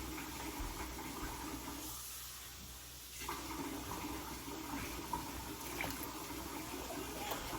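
Water runs steadily into a cooking pot for Lipton onion soup mix, a faint continuous rushing and splashing with a brief dip in the middle before the flow resumes.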